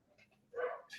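A puppy barks once, short and close, after a few faint yips, reacting to a cat indoors, with quiet room tone around it.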